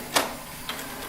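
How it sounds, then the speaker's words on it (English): Canon Pixma MG3120 inkjet printer running its post-cartridge-replacement cycle, giving two short mechanical clicks or whirs about half a second apart, close and moderately loud. "Printer is gonna do something to regulate everything"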